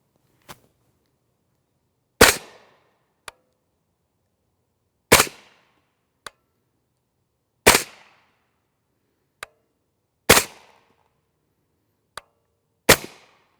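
Five sharp suppressed gunshots from a 12-inch 8.6 BLK rifle firing 285-grain solid copper rounds, evenly spaced about two to three seconds apart, loud and close, with faint clicks of the action cycling between shots.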